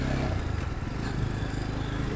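A motorcycle rides along a road toward Rungli through forest and tea gardens, its engine droning steadily and close, mixed with rushing wind and no talk.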